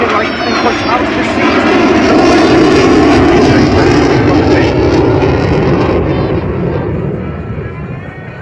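A Eurofighter Typhoon jet roars through an airshow display, gear down on a slow high-alpha pass at about 120 mph; the loud, broad engine rumble swells and then fades slightly.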